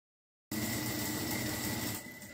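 Sewing machine running a half-centimetre side seam on a tricoline cotton pillowcase, starting abruptly with a steady, close mechanical whir and rapid stitching hum that eases off near the end.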